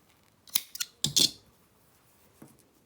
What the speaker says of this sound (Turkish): Ve burada yine tekrardan şöyle ipimi kesiyorum.